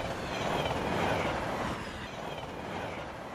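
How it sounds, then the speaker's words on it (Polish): A train rolls past near a tunnel on the way to an airport in an animated children's show about buses, heard as a steady, fairly close rumble that swells and then eases, with no talking. "jedzie pociąg."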